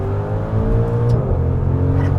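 A Maserati with a Ferrari-built 3.8-liter twin-turbo V8 runs loud and close, its even, rich engine tone dipping briefly in pitch mid-way before holding steady.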